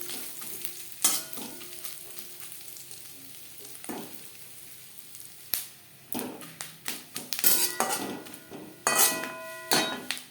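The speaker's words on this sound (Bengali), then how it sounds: "এবার দিয়ে দেব নারকেল কুচি" Chopped coconut fries in a pan for a vegetarian chana dal, a low sizzle under frequent sharp metal spoon clanks and scrapes, sparse at first and then coming in quick repeated bursts of stirring.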